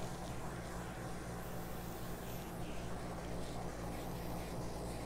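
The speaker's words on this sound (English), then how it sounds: "I got the AC going today because it's so warm in here" An air conditioner runs in a warm room during acrylic pour painting, giving a steady, even broadband hum and hiss that stays constant throughout, faint and with no voices.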